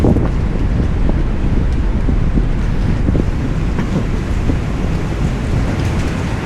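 Wind and sea waves at a seaside resort, a steady broadband roar with gusting wind buffeting the microphone and continuous surf underneath, loud and unbroken throughout.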